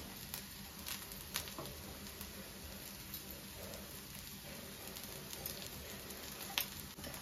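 Faint, steady sizzle and patter of coconut rotti frying in oil on a pan over a medium flame, a soft continuous crackle with occasional small pops.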